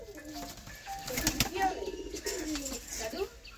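Pigeons, including local desi birds kept for sale, coo softly with bursts of wing flapping and rustling, and a person speaks over them.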